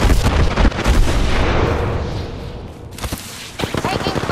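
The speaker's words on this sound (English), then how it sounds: "They're shooting at me." Rapid gunfire and booming shots from the Apex Legends battle royale game, loud and dense for the first few seconds, then easing before sharper bursts of shooting return near the end.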